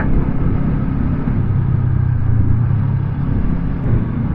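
A Honda CL500 motorcycle rides through twisty roads, its engine giving a steady, close low rumble mixed with wind noise that holds for the whole stretch.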